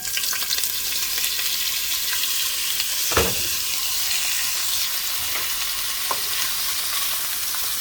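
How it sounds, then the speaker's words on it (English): Sausage fries in canola oil in a pot with a loud, continuous sizzle that stays close throughout. One sharp crackle pops out near the middle. Nobody talks. "Right, a little bit of canola oil. He's gonna do sausage."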